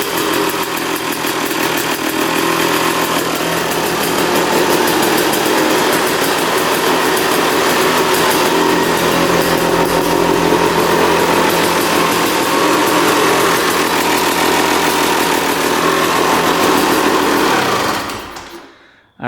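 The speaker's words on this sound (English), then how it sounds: "Idling perfectly, no knocking from the engine, no leaking." A Honda dirt bike engine idling smoothly, a steady close buzzing drone held evenly for the full length before cutting off abruptly at the end, with no talking.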